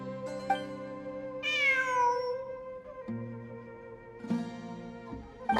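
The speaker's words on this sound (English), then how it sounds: "It really is a cat." A cat meowing repeatedly, several drawn-out, tonal cries with rising and falling pitch, clear and close, set over a soft steady background drone.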